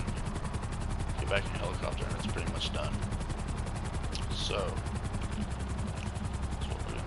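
A helicopter in the GTA 5 video game, during a Cayo Perico heist, whirs with a steady rotor chop under a voice, while brief bursts of in-game gunfire crackle through the mix.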